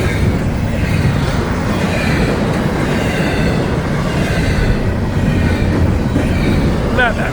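A train rolls past on a railway bridge under repair, a loud steady rumble of wheels and cars close by, with a brief squeal near the end.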